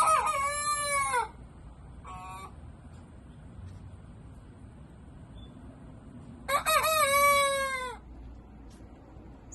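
A farm rooster crows twice near the coop, one long cock-a-doodle-doo at the start and another after a short pause, with a brief squawk between and quiet ambient background.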